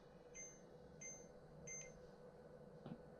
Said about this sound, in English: wait for the beeps